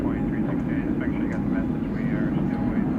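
An American Airlines jet takes off at night from runway 18 left at DFW Airport, a steady broadband engine roar heard from a distance, continuous throughout, with faint radio chatter layered over it.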